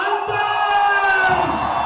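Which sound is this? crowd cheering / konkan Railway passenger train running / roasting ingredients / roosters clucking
crowd cheering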